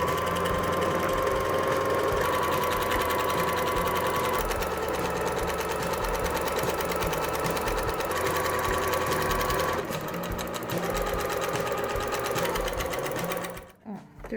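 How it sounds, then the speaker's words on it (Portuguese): A sewing machine runs continuously, stitching fabric for a cardboard placemat cover, a close, fast mechanical whirring hum that briefly dips and resumes before stopping abruptly at the end; a voice talks faintly underneath. "e vamos passar uma costura."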